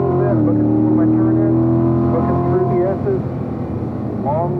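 A race car on a circuit accelerates at full throttle out of turn 5 at Spring Mountain, a loud, close, sustained engine drone whose pitch climbs, with a faint voice under the roar.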